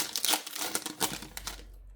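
Foil packs of FIFA 365 2026 cards from a Dutch XXL blister are torn open, with quick, close crinkling and rustling that fades out at the end.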